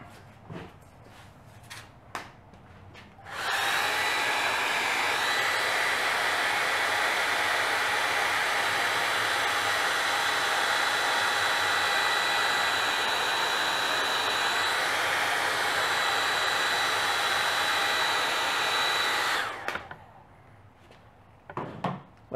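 A hair dryer switches on and blows steadily at close range for about sixteen seconds before cutting off, used while testing a color match on a dark brown recliner, with a few faint handling noises before and after.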